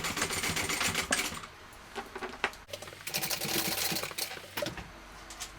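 A sewing machine stitches D-rings onto a strap, basting them in place along the bottom edge, running in steady bursts with a short pause in the middle, close and fairly quiet, with no talking.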